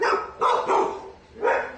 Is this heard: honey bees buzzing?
no